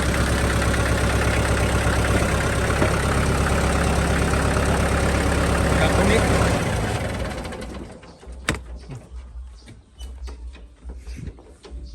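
Kubota M5000 tractor engine idling with a steady, loud mechanical chug for about six seconds, then dropping away abruptly to a quieter background with scattered clicks and knocks.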